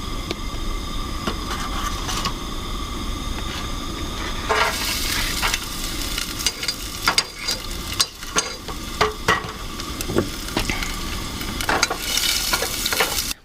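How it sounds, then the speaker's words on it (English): Brussels sprouts and garlic sauté in an oiled pan at an outdoor camp in the woods, with a continuous close sizzle broken by sharp scraping and clacking of stirring throughout, no voice. "I'll saute the Brussels sprouts with garlic"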